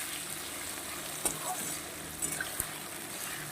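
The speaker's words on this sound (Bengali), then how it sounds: "এটা একসঙ্গেই ভাজা হতে থাকবে বন্ধুরা" Garlic, onion and potato fry together in oil left from frying papad, giving a steady soft sizzle with a few sharp stirring clicks and taps, fairly quiet and without talk.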